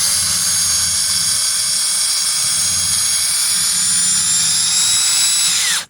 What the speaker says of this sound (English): I start the screw going straight in to get a hole created